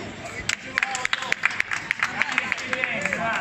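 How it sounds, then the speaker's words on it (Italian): Quick, bright clapping from a small indoor audience cheering a winner on a motorcycle riding simulator, sharp claps rising above chatter with a continuous hum beneath. "un applauso Giovanni!"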